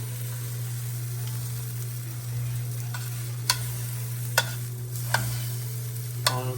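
Churro bites frying in a pan of hot oil make a steady, even sizzle over a low electrical hum, with a few sharp clicks of utensils against the pan and no one speaking.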